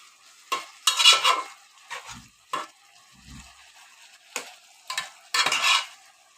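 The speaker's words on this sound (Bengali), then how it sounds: "মাছটাকেও সবজির সাথে আমি কষিয়ে নিব" Fish sautéed with vegetables in a pan, a series of separate loud scraping and stirring strokes with short gaps, under a faint background sizzle.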